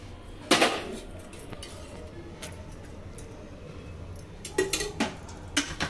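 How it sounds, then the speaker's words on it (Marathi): A metal spoon clinks against a pan while spooning oil into it: a sharp tap at the start, then quiet shuffling, then a quick cluster of clinks near the end. "आता मी ह्याच्यामध्ये बघा 2 चम्मच तेल टाकणार आहे"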